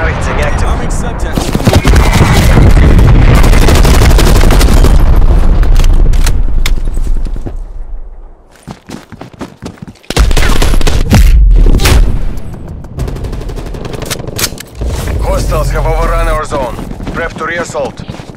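Call of Duty Black Ops Cold War Combined Arms match: loud, dense bursts of gunfire and booming artillery-strike explosions, with a brief lull and further blasts, under intermittent in-game radio voice callouts.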